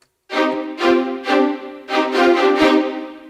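High strings ensemble from the Iconica orchestral sample library, playing a series of bowed chords with soft swelling attacks, about five phrases in quick succession, clear and close with no talking.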